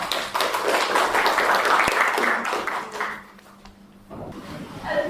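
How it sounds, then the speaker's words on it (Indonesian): A classroom of students claps after a presentation, with dense, sustained applause that fades around the middle and rises again briefly at the end. "Oke, tepuk tangannya."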